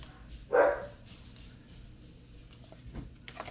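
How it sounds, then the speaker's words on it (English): A dog gives one sharp, loud bark close by, followed by quieter shuffling and faint scrabbling sounds in an otherwise calm room. "We'll see how long the dogs are gonna act like crazy"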